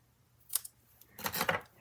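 Scissors trim scrapbook paper with a quick faint snip followed by a longer, louder crunchy cut, close by in an otherwise quiet room.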